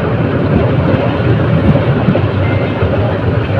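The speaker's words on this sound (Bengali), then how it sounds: "মৃত্তিকান্দা স্টেশনের 4 নম্বর প্ল্যাটফর্মে ট্রেনটি প্রবেশ করেছে।" The Chottola Express, Dhaka to Chittagong service, rolls into platform 4 at Mirtikanda station in Raipura, Narsingdi, a loud continuous low rumble of wheels and carriages passing close by.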